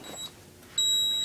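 A home alarm system panel beeps during a system test, giving a short high tone, a pause, then a sustained steady beep at close range.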